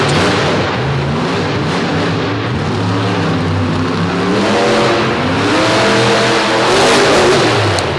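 A Utah-based monster truck's engine revs loud and close during a timed qualifying run on a Chicago-style course at a Midwest show, with rising and falling pitch sweeps over continuous crowd and arena noise.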